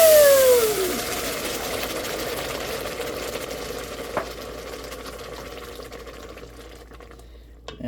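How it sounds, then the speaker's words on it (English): A mixture poured onto hot rice hisses and sizzles loudly at first, then settles into a steady bubbling crackle that slowly fades, with no talk over it. "Now add this to the rice, which is hot. Watch out, it's going to make a lot of noise."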